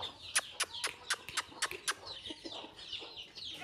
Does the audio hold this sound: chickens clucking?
yes